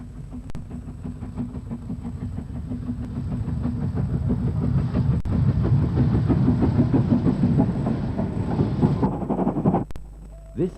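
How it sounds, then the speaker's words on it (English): A BR Standard Class 4 steam locomotive runs steadily nearby in archive footage, its rhythmic chuffing and rolling clatter building to a loud, sustained roar before cutting off abruptly near the end. "A BR standard Class 4 locomotive."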